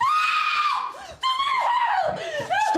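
A person screams loudly and shrilly in a tense scene from the BBC One medical drama Doctors, with a long sustained cry, a brief break, then renewed high-pitched screaming.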